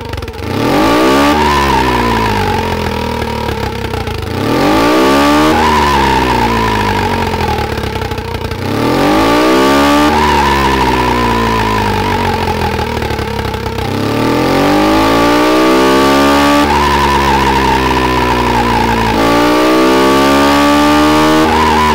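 A simulated engine in an engine simulator with an altered flywheel mass revs up and falls back in repeated sweeps, about five rising and falling cycles, loud and continuous with a buzzy, steady tone.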